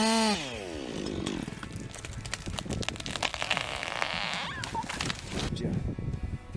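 A chainsaw cuts into a huge tree during felling, its engine buzzing loud and steady with rising and falling pitch. Other tones sound at the start.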